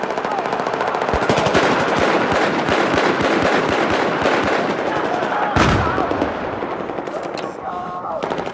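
Battlefield 4 gunfire: rapid, loud automatic bursts of rattling shots in close succession, with a sharp heavy blast midway and continued firing after, dense and chaotic throughout.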